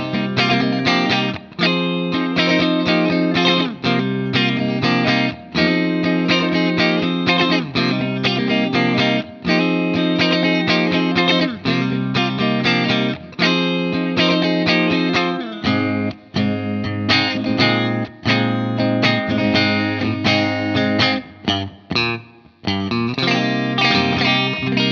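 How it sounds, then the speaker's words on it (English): Kauffmann '63 Telecaster in sunburst played through its middle position, neck and bridge pickups together, with funky rhythmic tones under effects and slight distortion, loud and continuous with brief choppy gaps. "So now let's get some middle neck and bridge pickup, middle position, funky tones, and see how this tele speaks."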